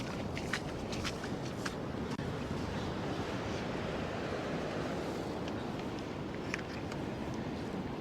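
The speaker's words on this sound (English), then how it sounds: "Every now and again there's a rogue wave." Surf breaks continuously on a beach at Fraserburgh, Aberdeenshire, a steady near wash of waves mixed with wind buffeting the microphone, with no talk.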